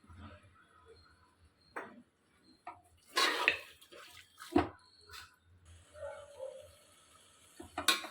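Water poured into a pot of Seeraga samba mutton biryani, heard as a few short splashy bursts with quiet pauses between them, moderately close and without talk.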